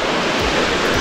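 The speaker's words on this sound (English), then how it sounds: "So we've stopped yet again, this time for a waterfall down here." A big waterfall in the green mountains of Lebanon near Batroun pours out a loud, steady roar of rushing water that fills the whole moment without a break.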